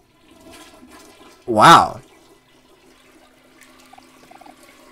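A toilet flush in the video game Omori, one short loud whoosh of rushing water that ends quickly and leaves a faint trickle, with a brief spoken word beside it.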